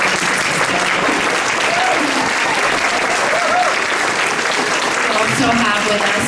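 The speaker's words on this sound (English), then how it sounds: "A round of applause for Jan Schakowsky for making it our schedule." A dinner crowd at an interfaith Iftar applauds an elected representative, sustained dense clapping that fills the room at steady loudness with faint voices mixed underneath.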